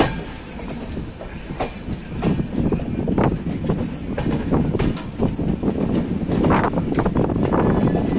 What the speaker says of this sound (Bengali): আমাদের ট্রেন এই মুহূর্তে এসে পৌঁছালো তার যাত্রাপথের 14তম স্টেশন খুর্দা রোড জংশন